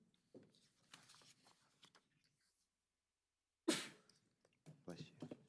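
A single sharp sneeze cuts in during a planning board's online public hearing, loud and sudden after a silent gap, with scattered voices and small sounds before and after it.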